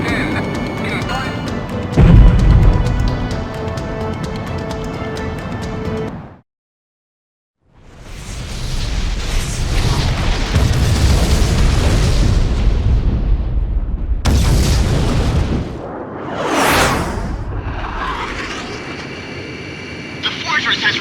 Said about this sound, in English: The fortress has really been destroyed!